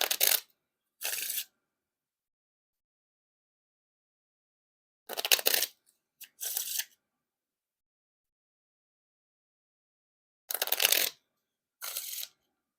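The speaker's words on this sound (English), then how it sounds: "And now time for the riffle shuffle or bridge shuffle." Blue Bicycle Chainless playing cards are riffled in short crisp bursts, each a quick flutter followed by a softer bridge, repeated three times with silence between.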